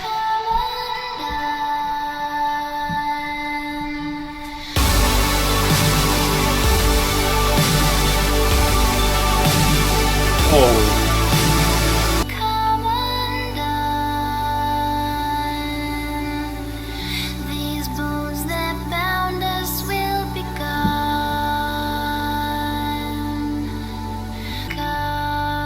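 A song plays from a recording, loud and continuous: a dense, noisy, distorted middle section gives way to sustained synth-like chords and shifting bass notes, with no talking over it.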